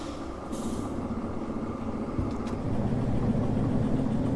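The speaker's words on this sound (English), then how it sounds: "Oh, I just heard the air pump." Train air pump in the Derail Valley railway simulator chugging steadily beneath a low engine rumble, with a short hiss of air near the start and the throbbing growing slightly louder toward the end.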